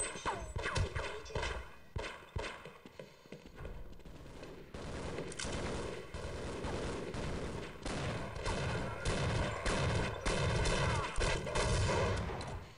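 Rapid gunfire from the first-person shooter Half-Life, dense bursts of shots crackling in quick succession throughout, loud and close, with sharp isolated cracks early on before a sustained barrage, no voices.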